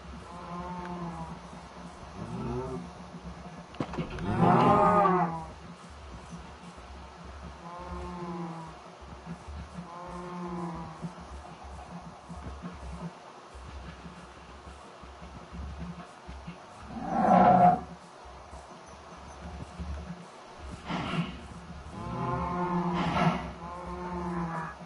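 Cows moo in the video game Minecraft, a string of low drawn-out calls over a steady background, with several louder bursts rising above the quieter lowing.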